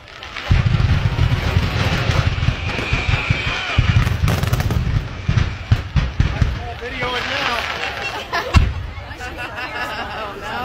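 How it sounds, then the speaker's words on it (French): Bursts of explosive popping and crackling fireworks on a beach, irregular and loud, with people talking and exclaiming over them. "voici quelques feux d'artifice en ton honneur"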